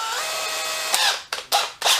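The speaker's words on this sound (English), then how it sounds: "No, drill." A Dewalt DCD996 cordless drill, just reassembled after chuck, clutch and gearbox repair, revs in short close bursts: a steady whine, then three quick spin-ups and stops with no voices.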